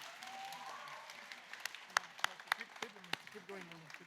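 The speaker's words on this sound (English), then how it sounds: "give them all the biggest round of applause" Audience applause at a Vietnamese community awards ceremony at the Sydney Opera House, a steady wash of clapping with a few sharp louder claps standing out, at moderate distance.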